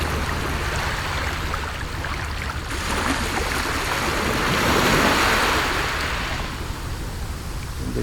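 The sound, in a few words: ocean waves, ambisonic recording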